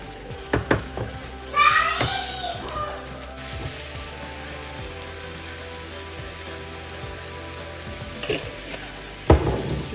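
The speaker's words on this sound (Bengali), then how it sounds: "মশলাটা বেশ অনেকটাই কষিয়ে নিয়েছি এতক্ষণে" Masala spice paste frying in a pan, a soft continuous sizzle with occasional stirring scrapes, while a voice and a television murmur in the background.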